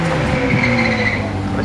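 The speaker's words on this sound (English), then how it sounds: "still getting a bit of wheel spin from the McLaren drop head as it makes its way up towards us" A McLaren drop-head supercar spinning its wheels on the Goodwood hill climb: a sustained engine roar with tire squeal, loud and steady, with no talk.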